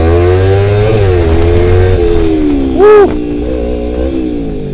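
A Kawasaki Ninja 250 motorcycle engine drones loudly up close while accelerating, its pitch rising and dipping as it revs, with a brief high whine in the middle.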